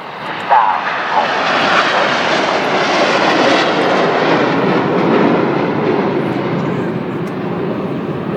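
Red Arrows Hawk jets fly past in an aerobatic display, a loud, sustained roaring engine noise that stays close and powerful throughout, with a voice heard over it.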